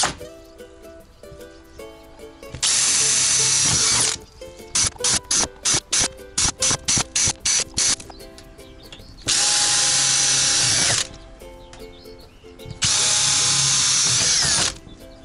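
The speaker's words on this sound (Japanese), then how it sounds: "内側をくり抜く前にリベットとネジの穴を開けていきます" A power drill bores rivet and screw holes in a camper van body for an air-conditioner exhaust vent: three long, loud, steady whines broken by a run of rapid short trigger bursts, close up.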